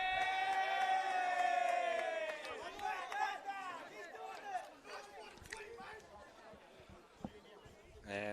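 A crowd roars and whoops loudly after a goal at a community football grand final, and the cheering fades over several seconds into scattered shouts and claps.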